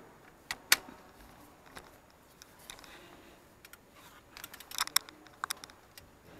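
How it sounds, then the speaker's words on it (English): A half-inch drive ratchet works on the belt tensioner of a 2013 Mercedes-Benz GLK 350, giving scattered crisp clicks close by, with a quick cluster of ticks near the end. "you're going to take your 3/8 drive ratchet or half-inch drive ratchet, in which case I'm using a half-inch"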